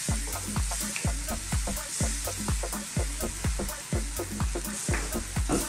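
Mackerel curry sizzling in a hot pan while being stirred, with a steady fry hiss broken by a regular run of scraping, clunking strokes, close and fairly loud.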